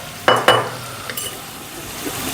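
Onions with a pinch of salt frying in a pan for chole, two sharp utensil scrapes against the pot early on, then a low steady sizzle with faint clinks, no talking.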